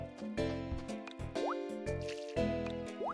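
Watering crops in the game Harvest Moon: Sunshine Islands produces cartoonish dripping, plopping water effects layered over a bright, melodic background tune, quiet and repeating in short bursts.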